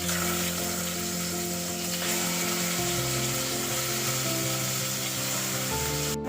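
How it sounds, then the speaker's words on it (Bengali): Four pieces of catla fish fry in hot mustard oil, giving a steady, close, even sizzle that holds without a break, with a faint clink near the end. "মাছগুলোকে এবার আমি তেলের মধ্যে ভাজতে দিয়ে দেব।"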